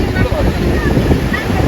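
Sea waves and strong wind on Digha beach, a loud, continuous roar of surf with heavy wind buffeting the microphone, close and unbroken throughout.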